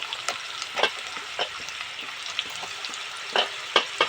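Green chilies sizzle in hot oil as tomato pieces go into the pan, with a steady close frying hiss broken by several sharp clicks and scrapes of the spoon at uneven intervals.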